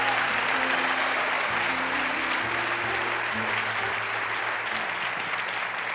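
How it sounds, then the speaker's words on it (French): Congregation applause during a church sermon, a dense, steady clapping that fills the whole stretch without pause. "Acclame pour ta victoire."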